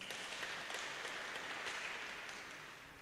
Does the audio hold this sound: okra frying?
no